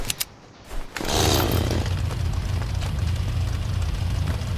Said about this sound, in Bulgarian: Имам само една резачка, мога да използвам.